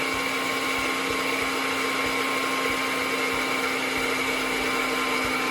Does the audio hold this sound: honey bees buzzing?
no